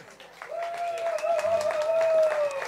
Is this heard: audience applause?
yes